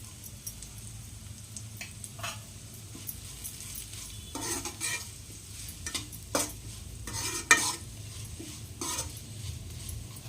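Grated coconut stirred into an ivy gourd curry frying in a pan: soft sizzle underneath, with repeated scraping and clinking strokes of a spoon against the pan, close and fairly quiet.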